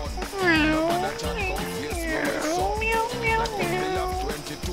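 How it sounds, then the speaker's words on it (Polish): A cat in the video game Gothic meows repeatedly, several wavering, drawn-out meows in a row, clear and fairly close over a low background tone. "Znowu słyszałem kota."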